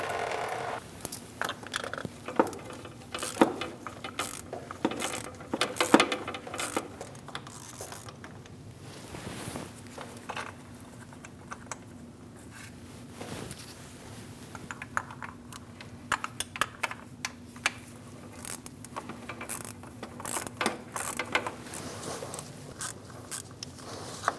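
A ratchet loosens the oil cooler bolts on a 2016–2025 Chevrolet Malibu 1.5L, with irregular clicking and clattering bursts close by, over a faint steady hum.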